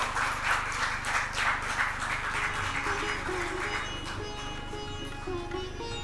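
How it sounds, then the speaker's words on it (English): Audience applause at a hackathon event fades from dense clapping into a thinner patter, with background music or tones continuing underneath and no clear speech. "A round of applause, ladies and gentlemen."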